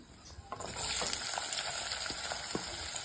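Chopped onions and green chillies fry in a pan, a constant close sizzle with scattered light clicks and stirring taps.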